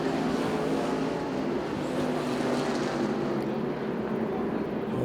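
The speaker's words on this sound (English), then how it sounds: "A couple cars beating and banging." IMCA stock cars racing in a heat at Arizona Speedway, several engines roaring together in a continuous, loud, dense drone as the pack runs close, no voices.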